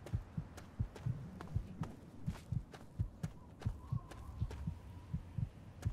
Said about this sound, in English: So you're gonna have to hear my heartbeat for a little bit.